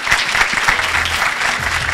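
An audience breaks into sustained, dense applause for a speaker, close and loud, with a few faint voices mixed in.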